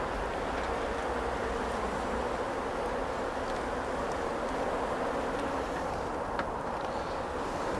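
Honey bees buzzing on frames while a light mist of essential oil spray is applied during the uniting of two nucleus colonies, a dense continuous hum close by with no talking.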